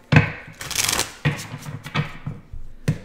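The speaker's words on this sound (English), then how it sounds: "So let me just go ahead and shuffle these guys" Playing cards are shuffled in several quick riffling bursts, crisp and close, with short pauses between them.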